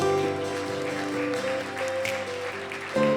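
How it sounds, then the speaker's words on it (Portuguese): A church congregation applauds during a worship service, a steady wash of clapping blended under sustained keyboard music, held at an even level throughout. "Aplauda ao nosso Deus."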